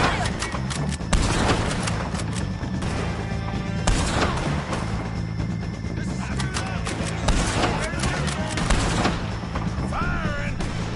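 Dense, nonstop gunfire from a Red Dead Redemption 2 shootout, with loud overlapping shots and volleys cracking close by throughout, and shouting voices mixed in underneath.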